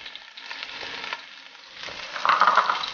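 Crushed ginger and green chillies sauté in hot oil for a pepper crab roast, giving a close, steady frying hiss with stirring. The sizzle swells louder near the end.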